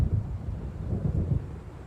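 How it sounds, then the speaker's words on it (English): Low rumbling thunder rolls beneath wind and rain in a thunderstorm in the video game Alan Wake Remastered, a steady dark growl with no voices. "It seems there's a storm coming."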